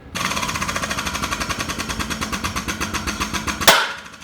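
Hydraulic puller with a 25-tonne cylinder removing a Sheppard M110 pitman arm: a fast, steady mechanical chatter, like a pump or hammering, runs loud for over three seconds, then ends in a sharp bang as the arm lets go.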